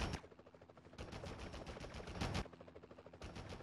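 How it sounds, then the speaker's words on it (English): Rapid gunfire from the Spider-Man video game on the Dreamcast, with loud sustained bursts of repeated shots broken by brief gaps over steady game background noise. "Enough with the shooting already."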